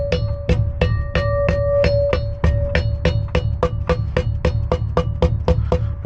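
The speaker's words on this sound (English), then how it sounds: "Tap the seal in." A 2 1/4 inch grease seal is tapped into a trailer axle hub with a steady run of about twenty sharp metallic knocks, evenly spaced and close, some ringing briefly with a clear tone.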